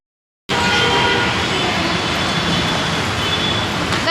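Steady, loud rumble and rail roar inside a moving metro train, continuous after a brief silence at the start, with no talking.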